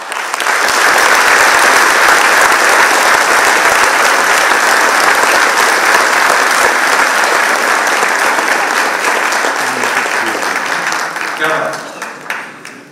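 Audience applause after a speech, a loud sustained wave of clapping from a large crowd that thins out toward the end.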